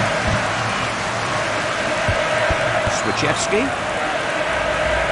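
Stadium crowd noise in the FIFA 2002 video game during a World Cup 2002 qualifier with Poland, a steady dense roar running throughout beneath a commentator's talk.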